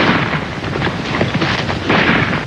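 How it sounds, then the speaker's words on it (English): Gunfire rattles on a John Wayne movie soundtrack: a loud, dense, continuous barrage of shots and blasts with no talking over it. "Wonder what all the shooting's about?"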